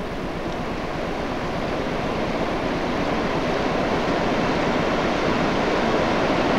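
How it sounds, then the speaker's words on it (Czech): Nikkelsfossen, a single-drop waterfall in Norway, roars as a loud, continuous broadband rush of falling water, steady and close throughout. "Nádherný vodopád."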